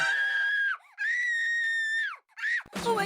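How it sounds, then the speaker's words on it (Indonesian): A person with a finger pinched and bruised in a locker door screams for help, three long high wailing cries broken by short gaps, loud and close with no other sound. "Jarinya terjepit dan memar, dan mulai berteriak minta tolong."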